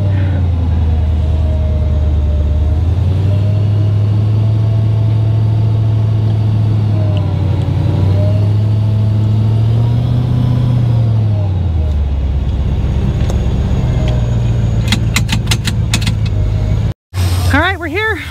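An off-road vehicle engine on a sand test drive, a loud continuous rumble with a low drone that rises, holds and falls as the revs change, with brief clicks and a short dropout near the end, heard up close.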